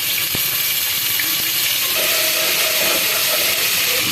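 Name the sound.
ginger garlic paste frying with browned onions and cumin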